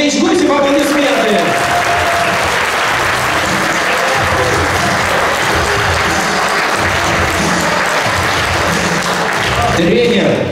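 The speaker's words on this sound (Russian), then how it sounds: "Друзья, бурные аплодисменты." Fans at a supporters' meet-up with a hockey team give loud, sustained applause for the head coach, dense clapping filling the whole stretch with faint crowd noise beneath.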